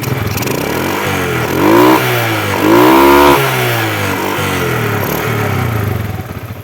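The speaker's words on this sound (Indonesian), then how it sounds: "Lihat suara mesin ya." A 2005 Suzuki Smash motorcycle engine idles steadily nearby and revs up twice in quick swells, its pitch rising and falling before settling back to a smooth idle.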